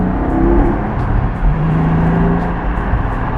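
A car cruising on the road home from Costco at sunset gives off a steady, loud low engine and road rumble heard from inside the cabin, continuous throughout with no talking.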